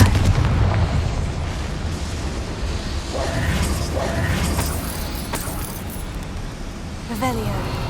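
A Confringo fire spell explodes in Hogwarts Legacy, a loud booming blast with rumbling debris over continuous game noise, and a voice speaks briefly near the end.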